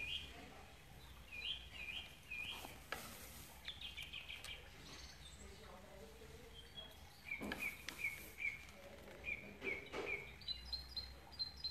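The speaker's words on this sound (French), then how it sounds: "On entend les oiseaux chanter." Birds singing outdoors, with high chirps and short trills coming and going at a moderate distance over a quiet background, along with light rustles and scratches nearby.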